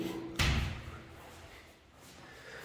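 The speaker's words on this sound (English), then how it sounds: "Just close that so you can see there is actually two doors" The door of an inbuilt wardrobe in a first-floor apartment shuts with a single solid thud near the start. Quiet room tone follows.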